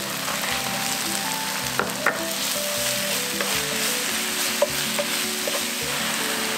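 Korean fish cakes stir frying in a pan with oyster sauce and corn syrup, a steady dense sizzle with occasional soft clinks of a utensil against the pan, continuous and close, no talking.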